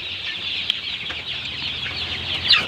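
Farm chickens clucking in a coop, a soft continuous chorus of hens with a brief sharper call near the end, steady and mid-distance.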